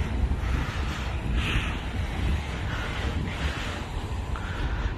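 Sea water laps along the Hong Kong harbour waterfront at Tsim Sha Tsui, a continuous rushing wash heavily mixed with gusty wind buffeting the microphone, steady and fairly loud throughout.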